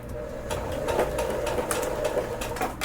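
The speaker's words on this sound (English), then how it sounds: "I'm just gonna make quick little stitches, nothing crazy" A sewing machine making quick stitches on dress straps during a clothing alteration, a steady close mechanical whirr with rapid clicking needle strokes running without a break.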